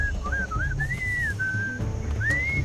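Melodic whistling from the Sam and Max: Beyond Time and Space remastered video game, a clear tune of gliding, rising notes played alone over a low background hum.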